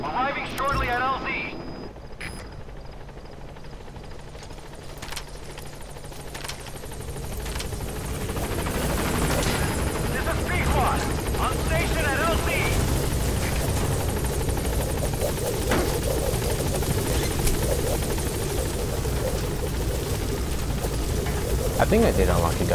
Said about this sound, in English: Man, this support helicopter is slow as shit.